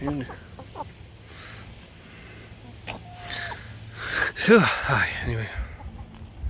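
Allotment chickens give a few clucks and squawks, with one louder burst near the middle, while a person talks nearby.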